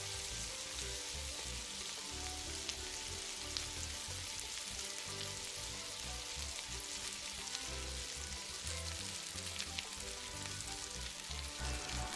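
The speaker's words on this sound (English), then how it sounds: "Sauté the onion for about 1 to 2 minutes until translucent." Diced onion sautéing in hot vegetable oil, a soft, even crackling sizzle throughout, close but fairly quiet, with no talking.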